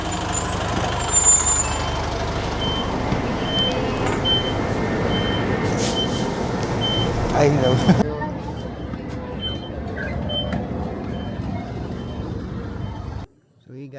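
Hop-on hop-off tourist bus in Boracay with a loud diesel rumble and hiss of air brakes, a repeating reversing beep running over it, and a brief spoken remark near the end.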